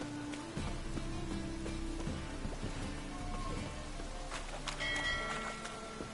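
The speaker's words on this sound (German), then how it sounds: "Ich muss verrückt sein, in diesem Regen rumzulaufen." Rain falls steadily in the video game The Witcher III, a soft even patter with scattered drips and faint ringing tones in the background, no voices over it.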